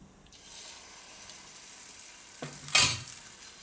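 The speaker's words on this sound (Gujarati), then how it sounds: "તો આપણે ગરમ થઈ ગયું છે તો એમાં આપણે આ રીતે ચમચો ભરીને ખીરું નાખીશું." Moong dal and bottle gourd batter is ladled into a hot pan and sizzles with a soft steady hiss, which flares into a sharper, louder burst as more batter hits the surface.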